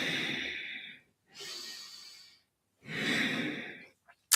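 Someone breathes in and out deeply and audibly, close up, during a twisting movement in an energizing meditation. Three long airy breaths are separated by short silences.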